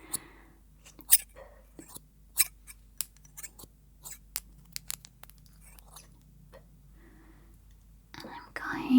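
Sharp scissor snips cut hair at the back of the neck during a close, binaural ASMR haircut, coming in irregular quick clusters with faint whispering in between and rustling near the end.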